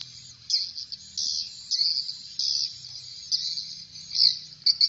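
Swiftlet calls from a bird-house building on a swiftlet flight path, a string of high, buzzy chirping bursts repeating in uneven clusters over a low background hum, moderately near and with no voices.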